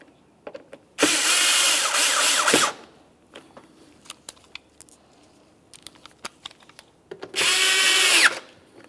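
A power tool whirs in two loud, close bursts of about a second and a half each while tightening grille mounting bolts on a 2010-2013 Ford Transit Connect, with scattered clicks and clinks of handling between them.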